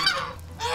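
A short, loud alarm honk from guard geese, a brief nasal call that breaks off and resumes, close by.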